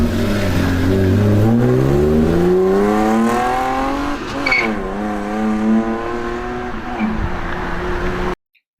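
A BMW E36 sports car with a 3.2-litre inline-6 revs up through rising gears, each pull climbing smoothly, then the engine eases off and fades near the end.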